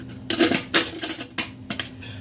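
Metal cooking utensils rattling and clinking as they are handled in a camping patrol box, with several distinct bursts of clattering and a faint steady hum underneath.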